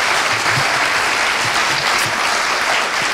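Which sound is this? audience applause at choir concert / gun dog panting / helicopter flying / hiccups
audience applause at choir concert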